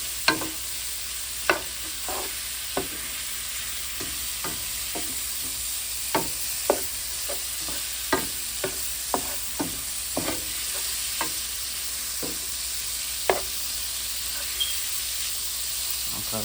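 Shrimp frying in a pan of hot oil for Cajun cooking, a steady broadband sizzle with scattered sharp pops and crackles, close and continuous, with no talk over it.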